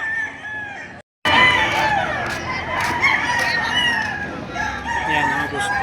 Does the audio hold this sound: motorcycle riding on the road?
no